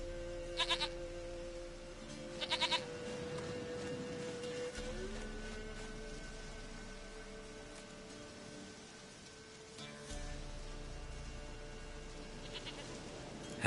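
Goat bleats in a PS4 video game, two short quavering calls near the start over steady game music and ambience, with no talk.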